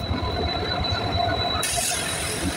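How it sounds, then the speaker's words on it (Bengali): A train rolls into a station with a steady heavy rumble of wheels on rails, a thin high squeal of wheels cutting in and growing brighter partway through, loud and near. "এখন এই ট্রেন আসবে"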